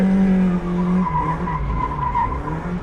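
A Mazda MX-5 Miata's tires squeal in a sustained, loud skid while drifting after a clutch kick. The engine drones steadily underneath and the screech holds for the whole stretch.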